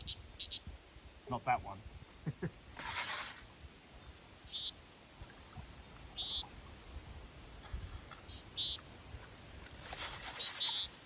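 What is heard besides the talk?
frogs calling at night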